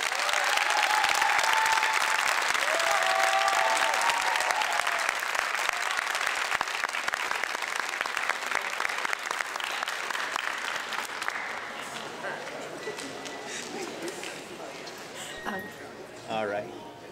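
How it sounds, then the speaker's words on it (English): Honor graduates applaud their parents at a high school board meeting, loud sustained clapping that gradually thins and fades toward the end, with some voices underneath. "if I could ask the honor graduates to give your parents a round of applause"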